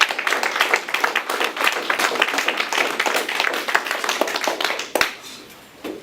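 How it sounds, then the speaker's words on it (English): Clapping from an event audience honoring a young essay reader, many distinct hand claps close by that keep up for about five seconds, then end with a sharp knock and fade to quiet. "Give our young brother another round of applause."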